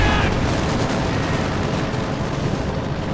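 Dense, continuous roar of aircraft gunfire during a strafing run in Company of Heroes 2, the World War II strategy game, loud and unbroken for about three seconds.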